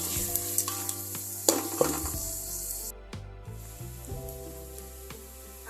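Onions frying in a pan for a bagara rice dish, giving a steady sizzle with a few stirring scrapes and clinks, close and alone with no voices.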